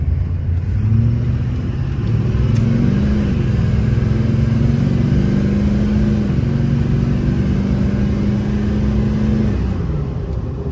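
A diesel truck engine revs up steadily under load, a loud continuous rumbling roar with a rising turbo whine, with no talking. LB7 Duramax with a Banks Ram Air intake and PPE boost increase valve.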